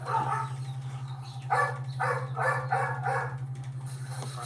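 Several dogs barking in a household with six dogs, a run of repeated barks under a steady electrical hum, mid-distance and moderately loud.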